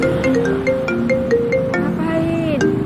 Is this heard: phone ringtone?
yes